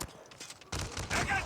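Gunfire rings out in Call of Duty Mobile as a few quick shots crack in close succession over a busy game background.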